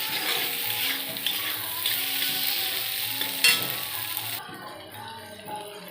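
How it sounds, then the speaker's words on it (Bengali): Boiled potatoes frying with spices in a pan for ghugni, a steady close sizzle with stirring and occasional clinks of the spoon against the pan, easing off near the end. "সিদ্ধ করে রাখা আলুটা মশলার সঙ্গে ভেজে নেব একটু।"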